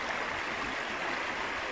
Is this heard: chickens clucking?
no